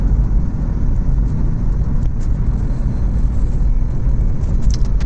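Light road traffic at the Sarhaul border on the Gurgaon-to-Delhi road: a steady, loud rumble of passing vehicles and engines, with a few faint higher clicks and no talking.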